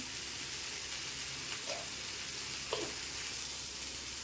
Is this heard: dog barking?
no